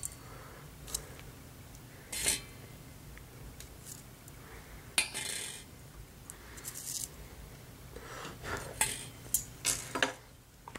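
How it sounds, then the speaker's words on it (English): Hookah coals are lifted off the bowl of a Nakhla Apricot overpack setup with metal tongs, giving sparse close clinks and scrapes of metal on foil over a quiet background. "let me take the coals off"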